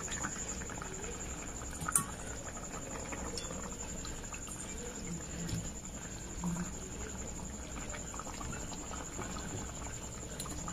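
Small fish curry with bottle gourd greens, potato and green banana simmering in water in a pot, giving a steady, quiet bubbling and faint patter with a soft clink near two seconds.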